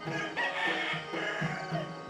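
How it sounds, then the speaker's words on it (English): Roosters crow in an early-morning village, one long cock-a-doodle-doo call rising over steady background ambience, with clucking fowl mixed in nearby. "I wake up to the sounds of early morning village life. Roosters call"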